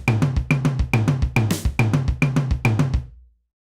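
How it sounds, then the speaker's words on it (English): PolyNome metronome app playing a triplet fill preset: crisp, loud, evenly spaced electronic clicks in a fast repeating pattern with a brighter accented burst midway, then stopping abruptly into silence. "Here I have a triplet fill preset that sounds like this."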